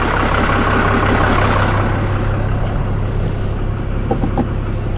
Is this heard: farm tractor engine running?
yes